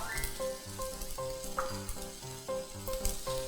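Glass noodles are stir-fried with basil leaves in a hot pan, a short burst of sizzling and tossing heard beneath prominent background music.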